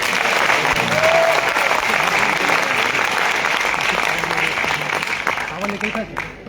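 Loud, dense audience clapping at a sales pitch for an NV Shoppe company event, continuous across the clip and tapering slightly at the end, with a crowd murmur beneath.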